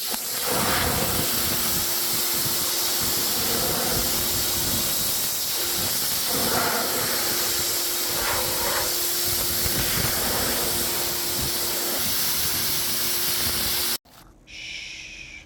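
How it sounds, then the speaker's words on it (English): A pressure washer sprays a Lamborghini, a loud, continuous close hiss of water jet with a steady pump whine underneath, cutting off abruptly near the end to quieter background. "Enjoy the peaceful pressure washing of the Lamborghini."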